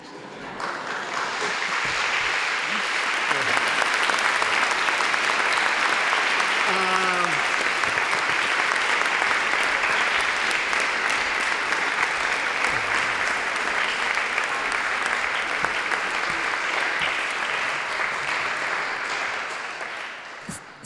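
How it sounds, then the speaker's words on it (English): A conference audience applauding at the end of a presentation, a broad, sustained wash of clapping that swells in quickly, holds steady for about fifteen seconds and then tapers off. "now you should applaud"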